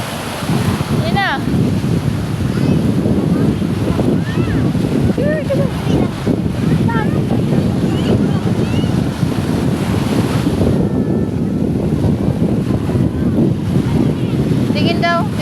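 Ocean surf rushes continuously with heavy wind buffeting the microphone, while people's voices come and go over the wash of the waves.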